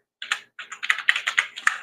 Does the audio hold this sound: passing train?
no